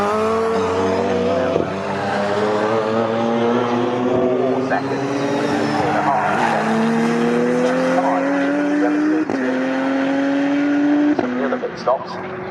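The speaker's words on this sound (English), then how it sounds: "As out of the pit lane goes the first while race leader, the light blue BMW 36 pounds of Barry O'Neill" Race cars circuit the track at Snetterton during a CSCC New Millennium and Open Series race, their engines whining and shifting up through gears at a distance, with a commentator talking throughout.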